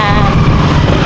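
A motorcycle carrying riders along a road on a Philippine road trip gives a loud, close, continuous engine drone with a buzzing harmonic whine and rushing wind noise.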